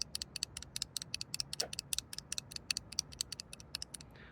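A magnetic key switch mechanism with a 0.5 mm air gap snapping repeatedly, a quick series of sharp, faint, close clicks in an uneven rhythm against a quiet background.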